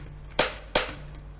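Two sharp plastic crunches about a third of a second apart, close and fairly loud, each fading quickly over a low steady hum.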